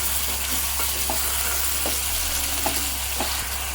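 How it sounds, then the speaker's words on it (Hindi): Two medium-sized tomatoes go into onions frying in a pan, which give a steady, close sizzle with a broadband hiss and a few soft clicks of stirring throughout; no one talks. "इसमें डाल रही हूँ दरमियानी साइज के 2 टमाटर"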